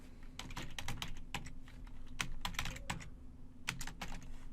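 Fingers type a command on a computer keyboard, quick irregular clicks and taps coming in short bursts with brief pauses, faint and close over a low background hum.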